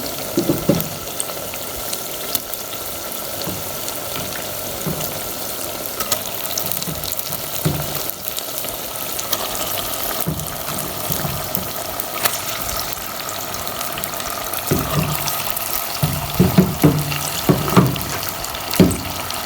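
Two kilograms of chicken go into a hot pan of light-brown fried onions, raising a loud, steady sizzle with splashy, watery bursts and clattering spoon knocks toward the end; no one speaks.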